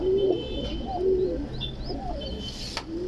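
Pigeons from an Alexandria coop coo in low, repeated rolling calls, several birds overlapping nearby with occasional faint chirps above a steady background hum.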